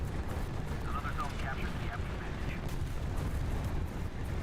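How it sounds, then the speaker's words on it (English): Explosions and gunfire from an online shooter game rumble as a dense, continuous low barrage of booms and crackles, with a few brief faint tonal sounds on top. "You can be so far away from the action and hear non-stop explosions next to you."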